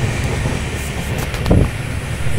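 A passenger train runs along the route from Guntakal junction toward Gujarat. There is a steady, loud rumble with broad rushing noise and a brief heavier thump partway through, and no voices.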